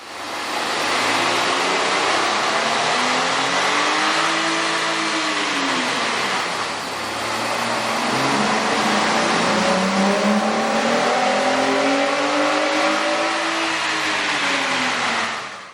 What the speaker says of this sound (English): Here's a comparison of the car's sound on the dyno with the stock OEM system versus AEM's air intake system.